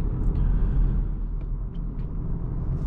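A 2024 VW Golf R with a DSG gearbox drives along with a steady low engine and road rumble, heard from inside the car, with a few faint higher ticks and no talking.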